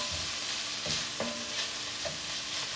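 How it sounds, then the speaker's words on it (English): Crushed peppers sizzling steadily in a pan while a spoon scrapes and stirs them a few times, close and continuous, with no talking. "Add crushed peppers to it and cook, covering, and stirring occasionally"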